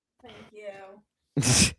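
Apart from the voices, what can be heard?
sneeze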